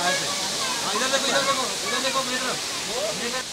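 A waterfall at a Cherrapunji tourist spot in Meghalaya makes a steady, loud rushing hiss, with people talking over it.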